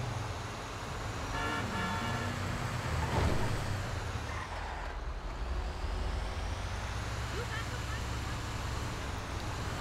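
A garbage truck drives along a highway in GTA 5, a steady, loud engine and road roar running throughout with slight swells and no clear breaks.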